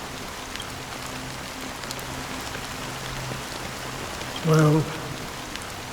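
Steady rainfall patters across surfaces in the Honkai: Star Rail video game, a constant soft hiss throughout, briefly interrupted by a short spoken word near the end.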